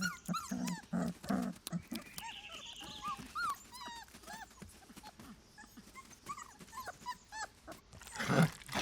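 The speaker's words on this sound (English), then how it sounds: "They smack their lips to beg for food." Wolf pups begging for food from their mother, with high whimpers, yips and squeaky whines overlapping near and fairly quiet, plus soft low grumbles and a louder burst at the end.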